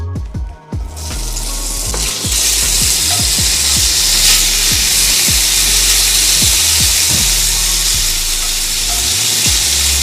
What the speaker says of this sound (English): Now I'm going to go ahead and fry the bacons.